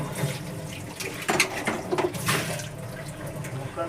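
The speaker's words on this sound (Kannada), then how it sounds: "ಚೆನ್ನಾಗಿ ಬಾಯ್ಲ್ ಆಗ್ತೈತೆ ನೋಡಿ" Masala tea with milk bubbling in a pan on the stove, a steady watery seething and gurgling with a few louder bursts, heard alone at close range.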